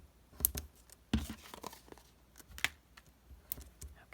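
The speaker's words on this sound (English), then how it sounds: "peel the little liners off" Paper liners peel off adhesive backing for handmade cards in a series of soft, close tearing and crinkling sounds, with scattered small snaps and rustles and no talk.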